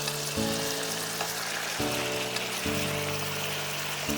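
Root vegetables and tofu stir-fry with Pixian broad bean paste for a vegan mala xiangguo. The sizzle is close and steady, with stirring scrapes and a sustained musical tone behind it, and no voices.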